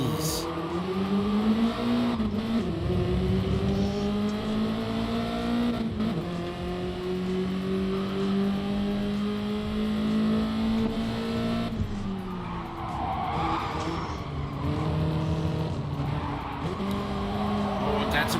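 E30 M3 race cars lap Tsukuba Circuit in a sim racing game, engines droning steadily and shifting in pitch with a continuous tire-squeal whine, dense and close throughout with commentary audible underneath.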